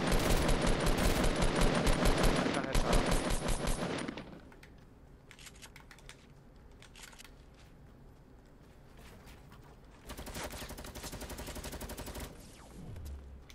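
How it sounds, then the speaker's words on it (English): Gunfire in the video game Fortnite: a dense, loud burst of rapid automatic fire at the start, then scattered quieter distant shots, followed by another rapid burst later. "Okay, I'm getting shot from 75"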